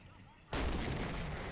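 Tank cannon round from a video game striking the track of a Panzer I: a sudden loud booming blast after a brief quiet moment, followed by a sustained rumbling roar that slowly tapers off.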